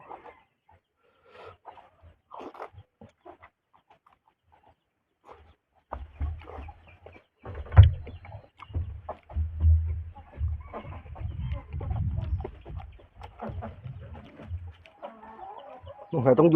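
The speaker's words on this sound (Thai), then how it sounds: "ได้ยินเสียงไก่แย่งกันไหม" Chickens cluck and squawk over one another as they fight over food in a busy, scrappy flurry, close by, after a quieter stretch of scattered sounds.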